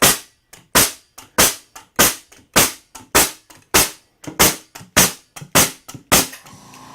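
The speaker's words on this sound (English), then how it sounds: "let's see how many nails it fired" An air-compressor-powered finish nail gun drives nails in a quick, steady run of about a dozen or more sharp pneumatic shots. Each loud, close crack decays quickly before the next, and no one speaks.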